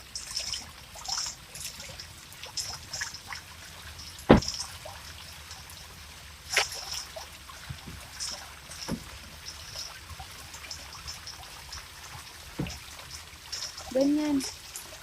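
Water trickles and splashes from a spinning water toy in Japan, a light running stream with scattered sharp knocks and taps, partly under people chatting nearby.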